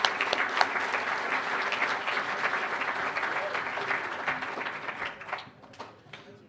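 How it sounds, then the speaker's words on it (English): An audience at an evening pub talk applauds, a dense burst of many hands clapping that slowly thins and fades over several seconds. "let's do a round of applause"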